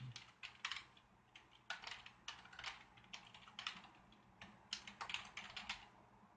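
Keys clatter on a computer keyboard in quick irregular bursts of clicks, fairly close and clear, with brief pauses between runs of typing while wireless network settings are being entered on a custom water-cooled PC build.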